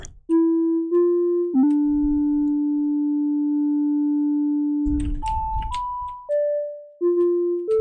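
Smooth, pure synthesizer tones through a low-pass filter in VCV Rack step between pitches, one long sustained note in the middle, with a brief low rumbling burst partway through.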